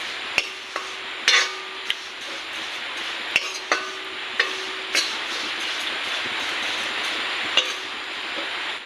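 Flattened rice (chira) fries in a pan over low heat, a soft continuous sizzle broken by sharp scraping and tapping knocks as it is stirred, close and steady, no talking.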